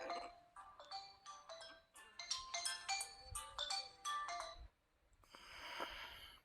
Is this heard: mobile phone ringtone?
yes